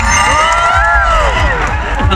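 A crowd at a fan meet-and-greet merchandise booth cheers and claps after a completed sale: a loud, dense, continuous wash of cheering and shouting fills the whole stretch, with higher excited voices rising and falling above it.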